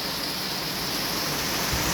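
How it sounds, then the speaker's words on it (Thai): Heavy rain in a storm is driven by strong wind, making a dense, loud, unbroken hiss that fills the whole stretch without letup. No voices can be heard. "โอ้ยเอ้ยลมสาดฝนสาดมา"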